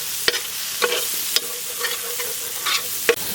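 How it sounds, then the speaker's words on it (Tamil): Masala for mutton bone fry sizzles in hot oil with a steady hiss, punctuated every half second or so by scraping stirs of a spoon against the pan. "எண்ணெயிலே நல்லா ஃப்ரை பண்ணிக்கிறேன்னா"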